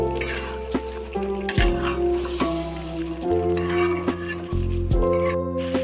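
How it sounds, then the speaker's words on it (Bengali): Fried cauliflower pieces go into a pan for dum gobi and are stirred, giving clinking spoon-on-metal strikes and scraping over a faint sizzle, with a steady background hum. "ভেজে রাখা কপির টুকরোগুলো দিয়ে দিচ্ছি দিয়ে ভালো করে আমি মিশিয়ে নেব"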